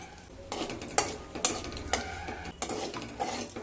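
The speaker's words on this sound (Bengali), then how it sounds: "এবার ওই তেলের মধ্যে দুটো শুকনো লঙ্কা, গোটা গরম মশলা, এলাচ, লবঙ্গ, দারচিনি দিয়ে দিলাম।" Dried red chilies with whole garam masala, cardamom, cloves and cinnamon fry in hot oil for egg curry, a steady sizzle broken by several sharp stirring clinks against the pan.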